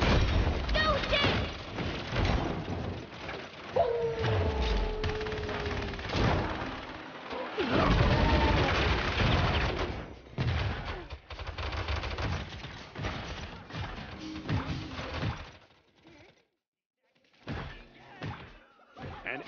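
Gunfire and explosive thuds from the video game Paladins come in bursts and booms, mixed with game announcer voice lines and music throughout, with a brief lull near the end.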